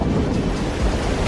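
A Jeep Wrangler ploughs through water on an off-road track, a loud continuous rush and churn of splashing and rumble filling the short moment with no talk.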